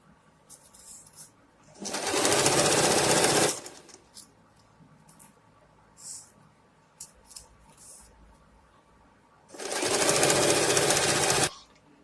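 A sewing machine stitches a pant seam in two loud bursts, a longer run near the start and another toward the end, with quiet handling sounds between them.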